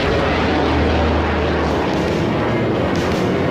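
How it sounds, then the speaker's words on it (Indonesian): Malaysian air force fighter jets roar overhead during a National Day 2022 flypast, a loud, broad, continuous rumble filling the whole stretch. "Pesawat-pesawat pejuang itu tadi."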